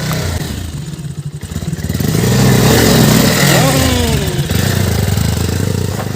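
A motorcycle on a rough, broken rural road in Nagaland revs up and holds a loud, rising engine drone with clattering, then eases slightly while still running close by.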